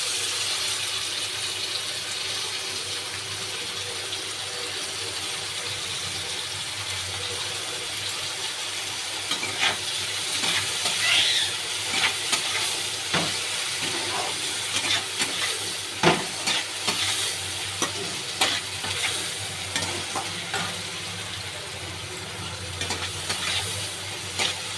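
Tomatoes fry with browned onions in a pan, a continuous close sizzle and hiss broken by intermittent stirring scrapes and clicks that grow busier toward the end.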